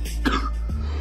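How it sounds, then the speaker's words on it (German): A single short cough from one person sounds close to the mic over a low background hum, followed by a quieter throat noise. "Ich werde den Husten einfach nicht los."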